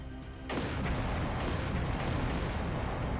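Sustained gunfire and explosive booms across a city in the video game Trails Through Daybreak II, starting abruptly after a brief quiet and continuing as a dense, loud, rumbling barrage.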